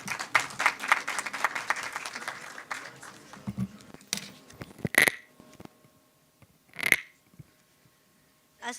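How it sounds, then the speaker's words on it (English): Conference audience at a world Islamic economics and finance event claps for a presenter called to the podium, a fairly near burst of applause for about three seconds that thins into scattered claps and a few thumps. "In a huge round of applause,"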